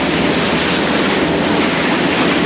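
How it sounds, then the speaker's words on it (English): Choppy open sea with a swell off Great Blasket Island, heard as a dense, steady rush of water and wind noise from a boat, with no voices. "This is a dirty old patch of water there now, to be fair. Very choppy and a bit of a swell too."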